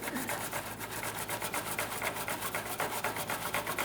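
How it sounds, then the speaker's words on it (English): A wire brush scrubs metal near the brake line on a 2004-2008 Ford F-150, giving quiet, close, rasping strokes in a steady back-and-forth rhythm of several per second. "I'm just using a wire brush for that"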